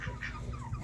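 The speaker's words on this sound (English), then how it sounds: "now all the chickens are in here" Chickens cluck in a barn on a farm shared with pigs and ducks, a brief burst of overlapping low clucks close by and fairly loud, with no talking.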